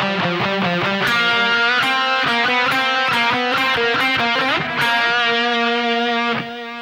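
Distorted electric guitar plays the opening riff of a song on its own, a steady run of loud, sustained, overdriven notes with no voices.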